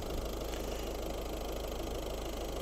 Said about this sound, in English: you can hear how smooth and how beautiful the engine runs